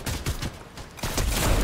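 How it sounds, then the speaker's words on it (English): Sniper rifle fire in Fortnite, with the suppressed sniper rifle in use: a handful of punchy, muffled shot bursts arrive in quick succession, loud and close, with no talking. "I want to shoot him with a sniper."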